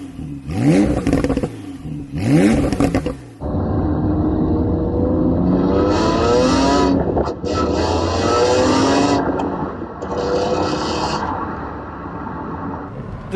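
A Porsche 911 with a turbocharged engine revs hard, climbing through the gears with rising engine pitch and a turbocharger spooling, loud and close, with brief pauses between pulls.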